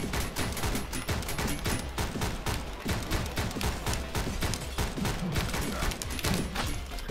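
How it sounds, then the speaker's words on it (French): Rapid, continuous gunfire from the shooting game Speed Limit, dense overlapping shots rattling steadily at full volume for the whole stretch with no voices. "Et je peux tirer bien entendu, parce qu'on est là pour tirer les gars."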